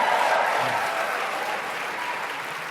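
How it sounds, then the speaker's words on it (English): A motivational seminar audience of entrepreneurs applauds in a large hall, a dense, steady wash of many hands clapping that carries through the whole stretch and fades only slightly toward the end. "give yourselves a tremendous round of applause"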